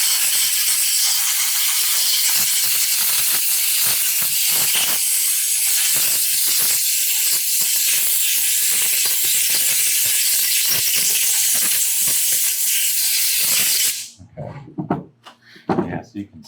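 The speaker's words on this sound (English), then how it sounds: "I'll go on ahead and spray this out." Steady, loud spraying hiss while a Stihl MS362C chainsaw is sprayed out during a deep cleaning. The hiss runs close and continuously for about fourteen seconds, then stops abruptly, followed by a few handling clatters.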